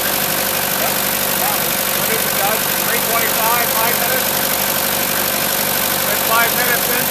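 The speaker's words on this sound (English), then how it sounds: "5 minutes into it, the engine's now purring like a kitten." A 1984 diesel Land Cruiser engine idles on a Synterra 20% D1 biodiesel blend, giving a steady, even broadband rumble that holds through the whole stretch with voices talking over it.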